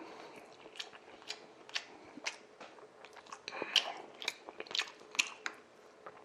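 Someone eats braised beef short ribs (galbi-jjim) close to the mic, with steady soft chewing and wet biting and a few sharper crunchy clicks, quiet and continuous.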